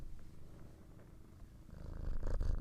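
A cat purrs close to the microphone while being scratched, a low continuous rumble that swells louder toward the end.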